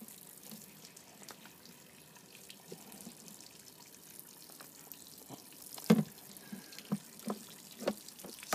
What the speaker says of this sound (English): a lot more bubbles coming out there